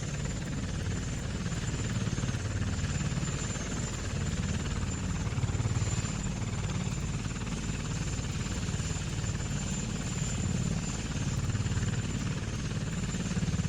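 Autogyro rotor in Kerbal Space Program, a steady whirring drone with continuous low-end buzz that holds constant throughout, with no talk.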